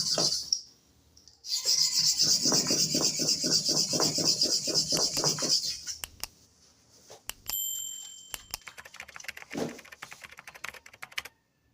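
A clipper blade is rubbed back and forth on a sharpening stone in a rapid, rhythmic rasping run of close strokes that lasts several seconds, followed by a few scattered scrapes and light clicks.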